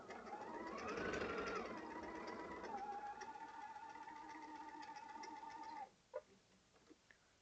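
A sewing machine stitches quilt squares and triangles together in a fast, steady whirring run of needle strokes for about six seconds. The motor pitch rises briefly, then it stops and a few faint clicks follow.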